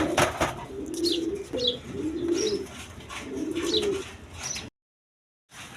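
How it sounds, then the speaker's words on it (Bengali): Red Gorra pigeons give repeated soft, throaty coos close by, several rolling calls in a row with faint chirps around them, before the sound cuts out. "এখানে রেড কালার এক পেয়ার গররা কবুতর আছে"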